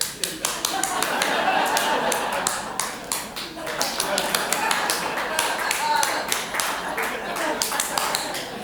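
A stand-up comedian imitates a lawn sprinkler onstage with rapid rhythmic clicking and tapping mouth sounds, a ticking series under scattered audience laughter and claps.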